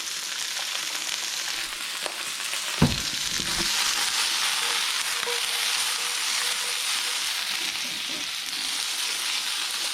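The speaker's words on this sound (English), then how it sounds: "I'm keeping it above the heat for a second because I can hear that we're going a little hard right now" Vegetables for a vegan ratatouille fry in oil in a pan with a steady, close sizzle and crackle, and a sharp clatter of utensil stirring early on.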